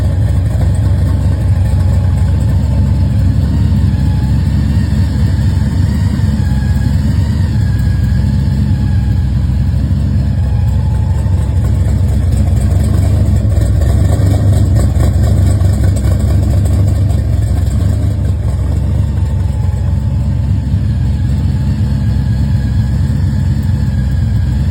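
A 1970 Chevrolet El Camino pro street car's V8 engine idles steadily and loudly close by, a continuous low rumble with a slight uneven lope and no pauses or talk throughout.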